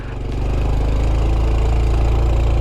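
A 2022 Honda Trail 125 motorcycle engine pulls steadily in first gear, a loud close-up single-cylinder drone with a throbbing low rhythm that swells slightly in the first half second and then holds even throughout.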